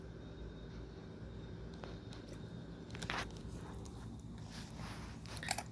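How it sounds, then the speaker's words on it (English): A pug chews a piece of tomato, giving soft, irregular wet biting and crunching sounds close up over a steady low background hum, with a couple of sharper bites near the end. "Finally just chowed down on it?"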